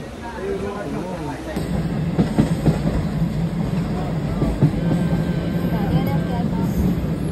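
A Mumbai suburban train runs along with a steady rolling rumble and faint high whine, accented by occasional clanks and rattles, while voices murmur in the carriage.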